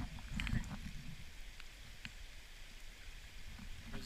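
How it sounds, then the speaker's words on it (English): Rain falls steadily as a soft, even patter with a few louder drops close by, heard during an ATV tour in Alaska, with a low rumbling hiss underneath. "Doesn't matter that it's raining"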